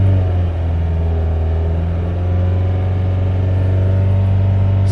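A car engine held steady at about 2500 to 3000 RPM during a battery and alternator test, giving a loud, continuous hum and drone that stays even throughout with no talking.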